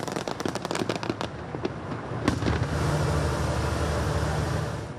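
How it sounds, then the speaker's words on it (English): Fireworks burst over the night sky in Egypt at a celebration for the opening of the Grand Egyptian Museum, a rapid crackling volley of pops that gives way to a loud, steady roar of continuous bangs and rumble. "Fireworks and drones lit up the night sky in Egypt over the weekend."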